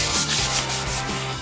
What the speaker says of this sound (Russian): А пока продолжим шлифовать.